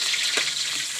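Garlic and onion frying together in oil in a pan, a brief continuous hiss of sizzling with a small splash-like burst near the start, close and steady, no talking.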